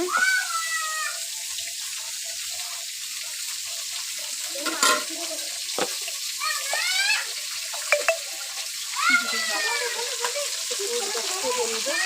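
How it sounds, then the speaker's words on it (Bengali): Large pieces of fish fry in a pan with a continuous close sizzle, while stirring scrapes and clinks sound at intervals and a voice talks now and then. "আমার দিদি ভাই খুব যত্ন সহকারে রান্না করছে দেখুন দেখুন অনেক বড় বড় মাছ রান্না করছে"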